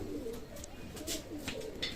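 Golden pigeons, a running breeding pair, coo in low, soft, repeated throaty phrases throughout, with faint higher chirps from other birds nearby.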